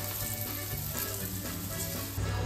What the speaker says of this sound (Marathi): सुरमई फ्राय झालेली आहे.